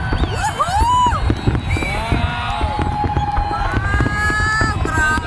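Gold fireworks bursting over the Burj Al Arab in Dubai at a New Year celebration, heard as loud continuous crackling and booms mixed with a cheering, whistling crowd close by.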